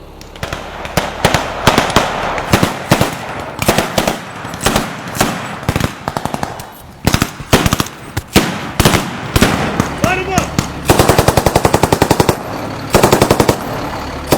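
Machine guns rattle in long and short bursts during military field training, mixed with sharp louder reports and booms, close and continuous throughout with brief pauses.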